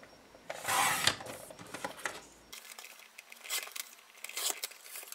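Paper being cut into strips for a stamped business card holder: soft scraping, rustling cuts in irregular bursts, close and fairly quiet, with one louder swish early on.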